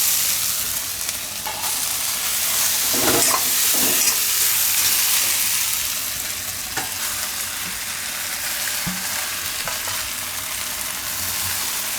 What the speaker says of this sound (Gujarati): તો મકાઈ ને બટેટા 2 આપણે ભેગું જ આમાં મિક્સ કરી દઈએ